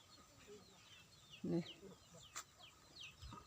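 Chickens kept with ducks in front of a rural field hut in the countryside cluck faintly outdoors, with a few soft, scattered calls and one slightly louder cluck over quiet ambient background.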